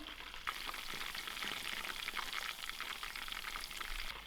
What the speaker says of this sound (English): We'll allow this paneer to get golden brown, and we're not going to stir it around